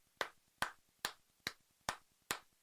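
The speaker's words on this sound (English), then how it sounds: "Let's give the Cousins brothers a little clap as well." Six slow, evenly spaced hand claps, faint and a little distant, with no voices over them.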